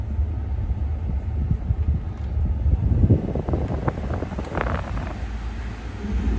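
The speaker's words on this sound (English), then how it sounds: "Hey, the AC's running." The air conditioner of a 2010 Ford F-150 pickup runs with a steady, rushing whoosh of airflow over a low rumble. It stays constant and fairly loud, with no talking.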